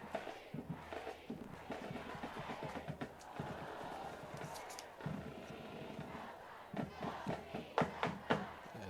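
A football crowd at a Concordia game cheers in a continuous distant roar, swelling with sharper shouts near the end.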